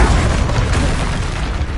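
A short, loud, booming blast from the Expulso explosion spell in Hogwarts Legacy rumbles heavily for under two seconds.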